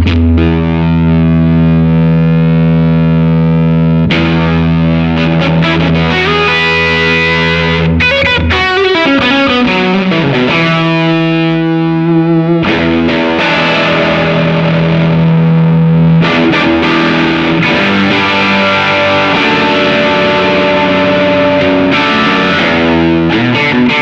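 Electric guitar played through a Silktone Fuzz+ fuzz pedal, loud and saturated, with sustained distorted chords and notes, a few sliding bends and brief breaks between phrases, no voice.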